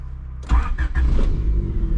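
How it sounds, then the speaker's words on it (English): A turbocharged wagon cranks and catches after half a second of quiet, settling into a loud, steady idle close by with no talking. "Let me give you guys a little startup here."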